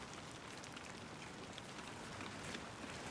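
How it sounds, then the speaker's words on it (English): Steady rain patters on a garden path at a Japanese garden on the day of a party, a dense, even hiss of drops with no voices, constant throughout. "It's raining, making it difficult to walk on the path."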